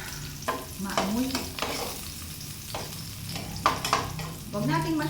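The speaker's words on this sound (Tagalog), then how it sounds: "Pinapula ko lang ng konti yung bawang, tapos yung sibuyas, konting luto lang" Garlic and onion sautéing for adobo, a steady close sizzle broken by scraping stirs of a spatula in the pan, with a few faint tonal squeaks and no speech.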